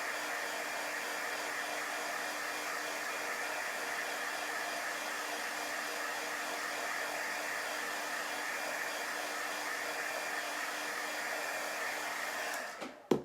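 A hair dryer blows a steady, close whoosh over a freshly printed chalk paste transfer to set it before the next layer, running alone for the whole stretch before clicking off at the end.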